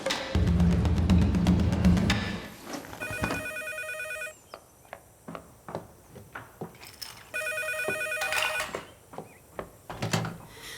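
A telephone rings in repeated bursts of bright electronic tones with pauses between them, fairly close and clear, alongside soft thumps and handling noises and no talk.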